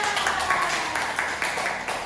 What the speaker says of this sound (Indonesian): Tepuk tangan dulu, Dea.